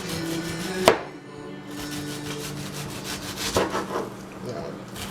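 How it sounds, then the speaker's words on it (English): A knife cuts onions flat on a wooden cutting board, a run of soft, quick, close strokes after one sharper knock, quiet with no talking. "So with my onions, now for my saute, I go ahead and just cut them flat."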